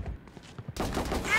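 Rapid gunfire from the Valorant shooter game, a burst of shots erupting midway and continuing loudly to the end, following a few quieter taps.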